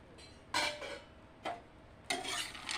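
A spoon or spatula scrapes and stirs food in a pan in three or four short, quiet strokes separated by near-silent pauses.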